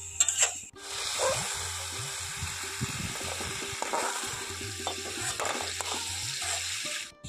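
Prawns fry in hot oil in a pan for a Bengali jackfruit-and-prawn dish, giving a steady close sizzle with spoon stirring and scraping, clinks, and a brief tap-water sound near the start.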